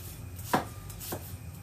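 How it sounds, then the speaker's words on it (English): Two separate knife strokes slicing finely through shallots on a cutting board, one near 0.5 s and a softer one just after 1 s, faint over a quiet room hum with no talk. "I'm just going to finely slice my shallots."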